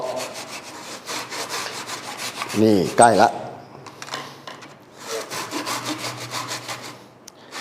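Rhythmic rasping strokes of a hand saw cutting a piece of wood for a guitar side, fairly close, with a brief spoken remark in the middle.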